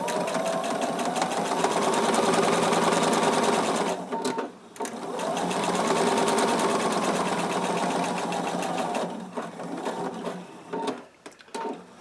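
A sewing machine stitches forward and back over elastic on a fabric face mask, a close, busy whirring hum in two long runs with brief pauses and clicks between them.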